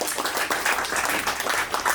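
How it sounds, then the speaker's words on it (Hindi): Audience applause fills a hall, a steady wash of many hands clapping close and fairly loud throughout. "मैं चाहती हूँ कि इस सफलता पर आप ज़ोरदार तालियां बजाएं"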